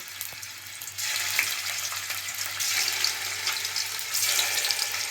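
Paneer cubes fry in hot oil in a wok, giving a steady, close broadband sizzle that swells louder after the first second and keeps crackling with small pops throughout, with no voices.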